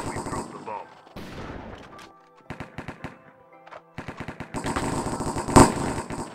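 Gunfire in the video game CS:GO, with several bursts of rapid shots and a loud single shot near the end, mixed with players talking.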